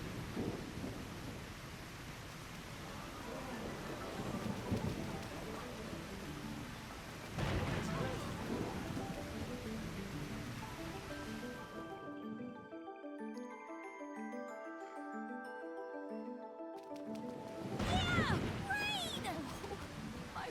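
Rain and rumbling thunder fill a scene in the video game Trails Beyond the Horizon, with a steady wash of noise and deep rolls while someone speaks over it and a melodic game chime plays partway through.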